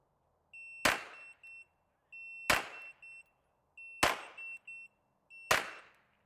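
Four sharp gunshots fired at a steady cadence of roughly one every one and a half seconds during a practical shooting drill, each loud crack tied to a high electronic shot-timer beep.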